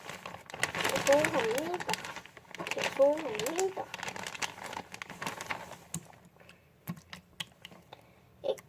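Paper crinkles and rustles in close handling, a run of dry crackles that fades into scattered light taps, while a person talks over part of it.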